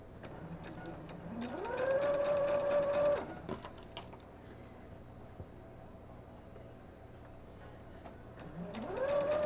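A sewing machine stitching a large quilt runs in a steady whirring burst that rises to a high whine and stops abruptly. A quieter pause follows, then the machine speeds up again at the end.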